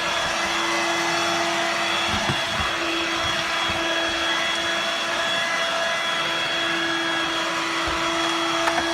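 A corded Hoover Dirt Devil Vibe 3-in-1 stick vacuum cleaner runs on the floor with a steady high whine and motor hum, loud and continuous with faint bumps from movement.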